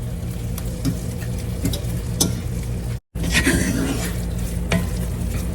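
A turkey and bean mixture stirred in a skillet, with a gentle steady sizzle under scraping, clicking stirs and a short cut to silence midway.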